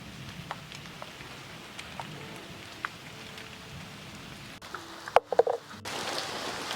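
Rain begins falling over a large backyard vegetable garden, a soft, faint, steady patter with a few sharper nearby drips and knocks toward the end.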